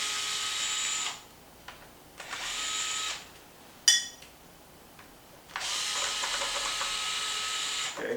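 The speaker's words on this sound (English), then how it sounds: "we're just going to use a 2 millimeter and remove these screws right here." Power driver with a 2 mm bit backing screws out of an XMAXX shock tower, high whirring bursts starting and stopping several times with a brief clack between runs.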